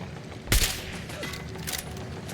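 In Fallout 4, gunfire aimed at the player cracks out as one sharp, loud burst early on, followed by fainter scattered shots and a low ambient hum.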